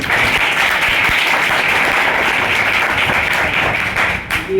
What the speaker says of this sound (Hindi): सबसे पहली बात सर के लिए जोरदार ताली